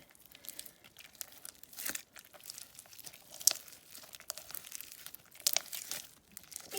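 Sticky no-glue slime made of soap, lotion and paper is squished and pulled apart by hand, giving close, irregular crinkling, tearing and wet crackling bursts with brief pauses.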